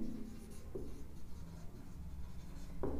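Chalk or marker writing on a board during a class 9 maths lesson on linear equations, a faint, steady scratching and rubbing with a couple of sharper strokes, quiet and close.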